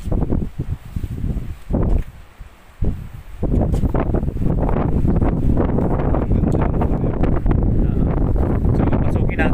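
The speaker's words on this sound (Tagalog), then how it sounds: "Medyo mahangin nandito." Strong wind blowing on the third floor of a building on an island, a loud, steady rushing buffet against the microphone with rustling gusts that dip briefly early on before settling into a constant roar.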